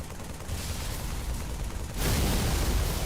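A structure in Halo 3 blows apart with chunks flying off, heard as a dense, rumbling blast of noise that swells louder about two seconds in and keeps roaring to the end, with no voices.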